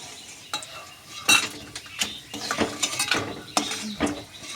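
Steady stirring and scraping of a utensil against a pan of frying jackfruit seeds, with irregular metallic clicks over a low sizzle of frying, close and fairly loud.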